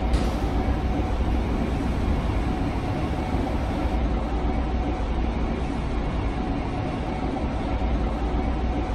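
A train runs in the Westwood Airport Transit video game, giving a steady loud rumble and rolling drone throughout, with no talk.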